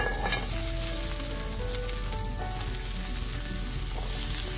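Asparagus and chicken sausage sautéing in a hot pan, a close, steady, even sizzle that fills the whole moment with a faint background hum.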